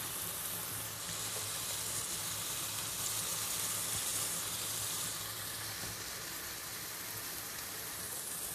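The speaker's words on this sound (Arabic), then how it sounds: "هحط بقى الفراخ زي ما انتوا شايفين كده" Chicken breasts frying in a pan with yellowed onions: a continuous loud sizzle and hiss, steady and close for several seconds with no talking.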